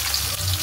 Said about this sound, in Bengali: তেজপাতাগুলো একটু ভেজে নিই